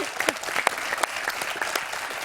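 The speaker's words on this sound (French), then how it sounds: "Est-ce qu'on peut applaudir, s'il vous plaît, cette question?" A game-show studio audience claps for a quiz question, a lively burst of close, crisp individual handclaps that runs steadily throughout.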